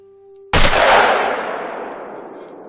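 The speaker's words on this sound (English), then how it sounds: "no wonder I heard that shot" A rifle shot in the hunting game The Hunter: Call of the Wild, one sharp loud crack breaking a near-silent moment with a faint tone, then a long rolling echo that slowly fades.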